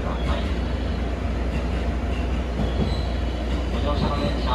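A JR 201 series rapid train on the Yamatoji Line rolls along with a steady rumble, rail clatter and occasional wheel squeal, recorded from the front cab view, loud and continuous.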